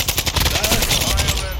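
Rapid automatic gunfire in a shooter video game, a loud close burst of fast repeated shots filling the whole moment, with a voice faintly under it.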